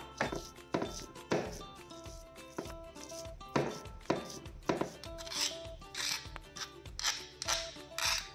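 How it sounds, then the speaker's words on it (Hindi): Boiled potato chutney is ground on a sil-batta stone, with repeated rhythmic scraping and rubbing strokes of the stone roller, close and clear, over faint background music. "इसको बिल्कुल हल्के हाथों से हमें पीसना है"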